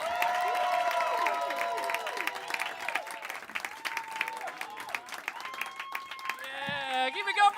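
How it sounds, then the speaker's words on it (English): Audience applause at a stand-up comedy showcase, steady clapping throughout while a voice talks over it, near and continuous, with a brief louder burst at the end. "Start clapping for my good buddy, Matt MacLean, everybody."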